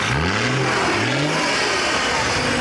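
A car engine revs loudly and close by at a car meet with a deep, truck-like roar, climbing in two rising pulls before settling into a sustained rumble.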